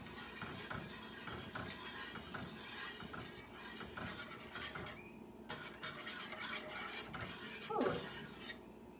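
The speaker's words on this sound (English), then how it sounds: "I'm just gonna stir this with my spoon." A metal spoon stirs a warm pot on a home stove, giving soft repeated scraping and light clinks close by, with a brighter clink near the end.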